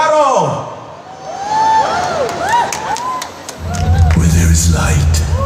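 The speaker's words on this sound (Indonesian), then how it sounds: "Beri tepuk tangan meriah untuk Abi dan Giga Kishi Zero from Garo" A crowd at a cosplay competition in Kasukabe City cheers and whoops for performers costumed as Zero from Garo, with shouts and clapping building louder toward the end as voices and a background soundtrack carry over it.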